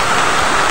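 Dense, steady hiss of heavy rain pouring down, loud and continuous through a short stretch with no voices.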